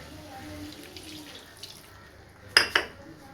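Water is poured into a pan of chicken gravy in a home kitchen, a steady low wash of liquid followed by two sharp metallic clinks near the end.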